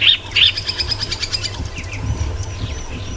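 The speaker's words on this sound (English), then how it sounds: "quite often you'll get different birds joining in the alarm call" Several wild birds giving alarm calls during a sunrise safari drive: loud, close, sharp chirps at the start, then a rapid rattling series of calls and scattered tweets over a low background hum.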